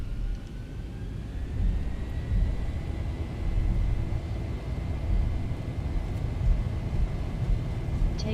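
Steady broadband jet engine roar of a Zibo Mod 737 in a flight simulator spooling at takeoff thrust, a continuous low rumble with a faint rising whine holding at an even level throughout.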